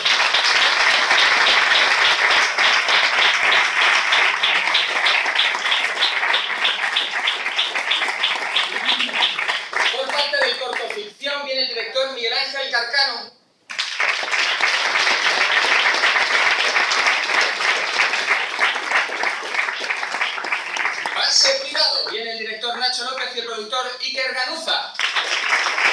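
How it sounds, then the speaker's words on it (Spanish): Strong, sustained audience applause at the Madrid en corto 2014 short-film screening, greeting presenters as they come up, dense clapping that runs throughout with two brief breaks where a voice speaks over the room. "Un fuerte aplauso."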